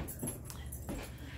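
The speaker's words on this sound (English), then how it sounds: "Who you barking at?" A dog gives short, faint yips and whimpering barks indoors during Christmas time, several quick bursts across the moment with no talking over them.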